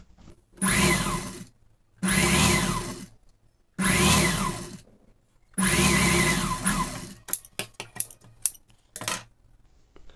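A tailor's sewing machine stitches a folded fabric seam on a child's pinafore, running in four steady whirring bursts of about a second each, then a few sharp clicks and taps.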